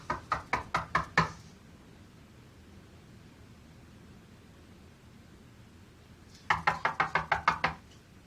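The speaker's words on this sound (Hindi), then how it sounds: "खटखटाओ दरवाजा" Two bursts of knocking on a door, each a quick run of about seven or eight sharp raps, separated by several seconds of quiet room hiss.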